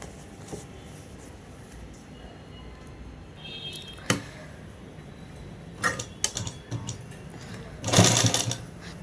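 A sewing machine top-stitches a shirt in short, intermittent bursts of whirring stitching separated by quiet pauses and handling noises, close to the microphone.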